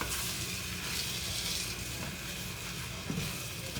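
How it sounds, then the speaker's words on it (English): Steady, close sizzling and bubbling from flour gravy frying in a pan, continuous and fairly quiet with a faint scrape partway through. "See how that's a frying?"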